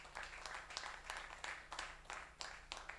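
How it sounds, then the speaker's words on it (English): A small crowd claps in a steady patter of overlapping hands, moderately close, with no talking over it. "Please let us also give him a round of applause."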